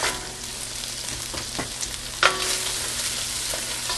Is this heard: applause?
no